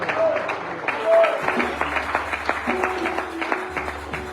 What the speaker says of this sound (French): Est-ce qu'on peut acclamer aussi pour les révérends?